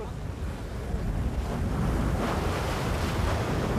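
High sea waves surge and crash around a small rocky islet as a fishing boat tries to land, a loud continuous roar of surf mixed with wind buffeting the microphone, swelling after the first second.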